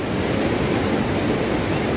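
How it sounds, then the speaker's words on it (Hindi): The fast-flowing Parvati river at Manikaran in Kullu, Himachal Pradesh, heard from a bridge above it, gives a dense, continuous rushing roar that is loud and even throughout, with no voices. "गाइस ये पार्वती नदी है"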